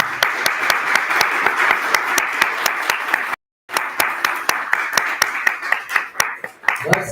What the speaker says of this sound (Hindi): बस केवल ताली मत बजाओ